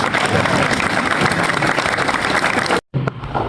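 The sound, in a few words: audience applauding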